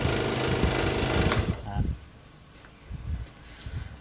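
A scroll saw buzzes loudly, then stops abruptly, leaving quieter rumbles and faint bumps.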